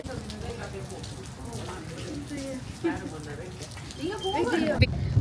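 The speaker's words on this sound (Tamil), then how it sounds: "வெளியில மழை பெஞ்சு கொண்டு இருக்குது" Heavy rain falls outside, a steady patter that continues while people talk over it.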